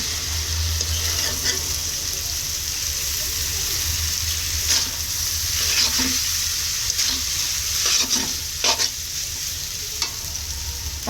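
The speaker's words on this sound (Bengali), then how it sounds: "এখন এটাকে আমরা ভালোভাবে নেড়ে মিশিয়ে নেব" Noodles are stirred in a hot frying pan, a steady sizzle under repeated scraping strokes of a spatula against the metal, close and continuous with no talking.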